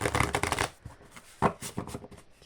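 Sailor Moon tarot cards being shuffled up close, a dense riffling flutter followed by a second, shorter burst of shuffling.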